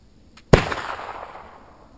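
A single sharp, loud report from a .45 caliber Pennsylvania flintlock rifle, preceded by a faint click and followed by a trailing echo that fades out over about a second and a half.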